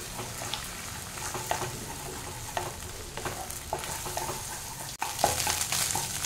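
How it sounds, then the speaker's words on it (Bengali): Egg bhurji sizzling in a pan while it is stirred and scrambled, a continuous crackling fry with repeated scraping strokes of the spatula at close range. "আস্তে আস্তে ভুর্জিটা এরকম করে দেবো, যাতে স্ক্র্যাম্বল হয়ে যায়, প্রপারলি ভাজাও হয়ে যায় এটা"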